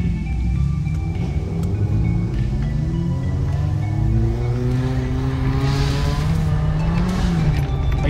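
A Suzuki Swift dirt-racing car slides under the handbrake, its engine droning loudly with rising and falling revs and tyres scrubbing across the surface throughout.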